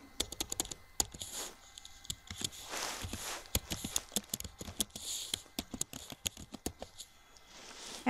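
Rapid, uneven keystrokes on a computer keyboard while a chart title is typed into an Excel Power Pivot dashboard, close and clear, with short bursts and brief pauses between them.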